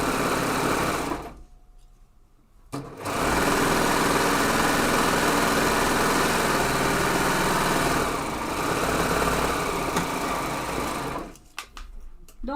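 An overlock serger runs fast and loud while stitching the seam of a zipper pouch, stopping briefly near the start and again near the end, with a steady mechanical whir throughout.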